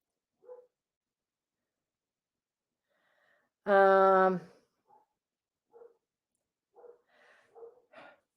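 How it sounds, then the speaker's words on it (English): A single loud, close dog bark in otherwise quiet surroundings, with a few faint small sounds before and after. "My dogs are barking at something outside."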